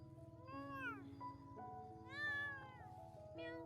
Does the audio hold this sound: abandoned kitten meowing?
yes